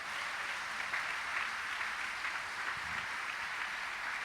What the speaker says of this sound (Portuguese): Você vai aplaudir, aplauda forte.